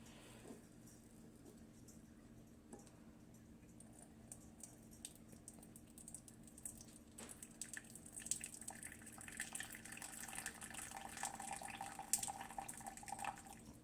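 Boiling water trickles slowly from a kettle into a measuring cup, a faint thin pour with light dripping that grows a little louder and busier toward the end.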